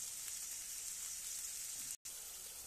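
Tamarind-soured fish curry broth made with falui fish boils in a pan, giving a steady, close, even sizzling hiss that continues without a break apart from a brief silent gap near the end.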